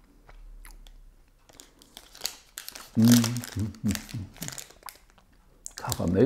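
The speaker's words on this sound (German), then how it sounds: "So, dann wollen wir mal reinbeißen." Someone bites into an Ahead snack bar, producing crunchy bites and chewing with a few wrapper crinkles, close and intermittent, mixed with talking.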